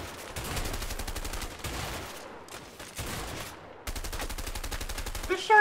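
Rapid automatic gunfire in the co-op video game A Way Out during jungle fighting into a compound, loud bursts of repeated shots with brief pauses between, with faint talking mixed in.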